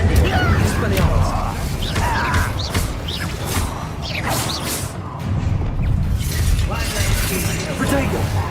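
Spell effects from Hogwarts Legacy crash, whoosh and burst in quick succession, with bright magical shimmers over a dense rumbling bed of combat sound, while a player's voice repeatedly calls out spells along with them.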